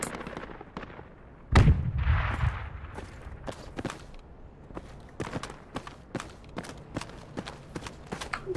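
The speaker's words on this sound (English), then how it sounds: "Someone shooting." Gunfire in the military video game Project Reality: one loud close burst near the start, then a string of sharp, fainter shots at irregular intervals, some single and some in quick pairs.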